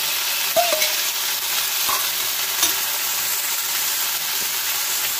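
Drumstick leaves and chilli are stirred in a hot pan, a constant soft sizzle broken by a few light knocks and scrapes of the spoon against the pan.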